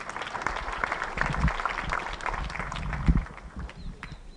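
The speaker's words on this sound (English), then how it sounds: "Let's give him a round of applause." Guests at a family ceremony applaud after a speech, scattered clapping mixed with crowd murmur and low thumps, fairly distant and uneven, easing off near the end.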